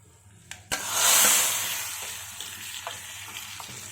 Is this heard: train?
no